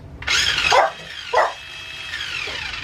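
A nearby dog lets out two sharp barks at an RC car, followed by a fainter whine as a high electric whir runs in the background.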